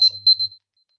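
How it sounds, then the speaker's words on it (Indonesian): A timer alarm sounds during an online math lesson: two quick electronic beeping bursts, clear and fairly loud, over roughly half a second, then silence. "Alarm sudah berbunyi"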